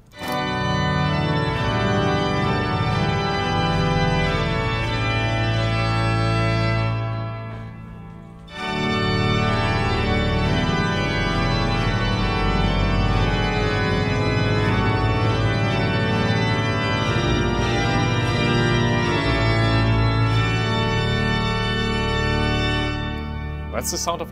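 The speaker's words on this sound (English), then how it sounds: "That's the sound of the Hoofdwerk." Hinsz pipe organ in the Bovenkerk, Kampen, Netherlands, playing on the Hoofdwerk stops including a bright sharp mixture and a tierce: a loud, full, sustained chord texture that breaks briefly before resuming, with no voices.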